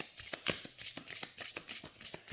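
Rainbow oracle cards being shuffled by hand, a quick run of crisp riffling flutters and soft taps in an irregular rhythm, close and quiet, with no speech.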